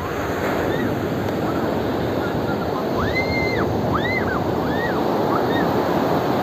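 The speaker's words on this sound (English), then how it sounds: "ये जो लहरों की आवाज़ है, this totally mesmerizes you." Ocean surf crashes steadily onto the shore in a dense, continuous wash with wind noise, while faint rising and falling calls drift over the top.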